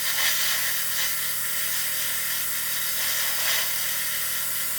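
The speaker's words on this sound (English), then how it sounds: "You can see I'm not going to stop the airbrush." A Gaahleri Serenair airbrush runs continuously while spraying primer, a steady close hiss with no breaks from start to finish.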